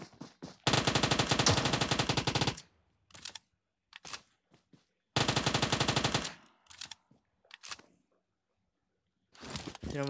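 Loud automatic gunfire bursts at a bot in the mobile video game BGMI, with two long rapid volleys, several shorter bursts and single shots, separated by near silence, close and sharp.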